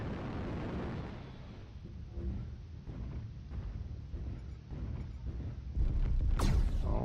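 A mech's torso blows apart in the video game MechWarrior Online: a broad, rumbling explosion that swells and bursts loudly near the end, over a steady roar of battle noise.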